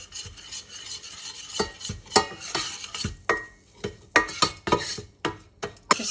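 A utensil stirs flour into melted butter in a pan over medium-low heat. Repeated scraping and clinking strokes sound close up against a faint sizzle, in an uneven rhythm.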